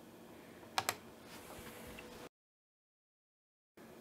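A real keyboard attached to an HP MicroServer Gen8 gives a few close, crisp key clicks in a short burst over a faint room hiss, and then the sound cuts out to total silence.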